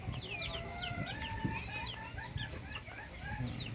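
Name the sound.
native Bengali chickens clucking on a farm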